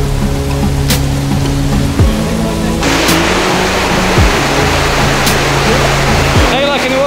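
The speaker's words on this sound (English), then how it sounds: "How you liking the waterfall?" Waterfall on the Four Falls trail, a loud continuous rush of falling water close by, with faint tonal hums underneath and a brief higher sweep near the end.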